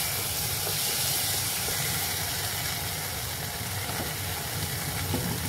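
Onions and tomatoes fry in a pan for restaurant-style dal makhani, giving a steady, loud sizzle and hiss that continues unbroken from start to finish.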